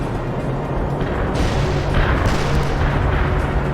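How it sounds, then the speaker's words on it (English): Artillery strike in the video game World in Conflict, a loud, sustained rumble of heavy booms and explosions that swells midway and rolls on steadily. "Artillery strike."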